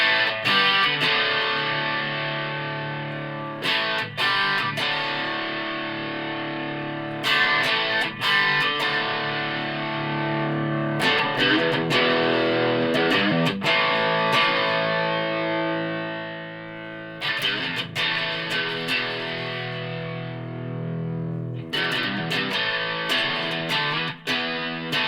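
Electric guitar played through a JOYO British Sound overdrive pedal with reverb on: crunchy, distorted chords and riffs ring out in repeated bursts with short pauses, loud and close, with a reverberant tail and no talking.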